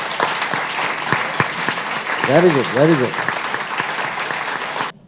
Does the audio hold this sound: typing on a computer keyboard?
no